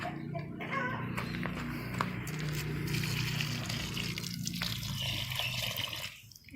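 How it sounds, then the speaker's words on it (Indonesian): Water mixed with fermented organic fertilizer is poured from a hand scoop onto plants, making a soft, steady trickling splash. It is fairly quiet and fades near the end, with no speech. "Itu pun setengah-setengah gayung ya saya siram, tidak banyak-banyak ya."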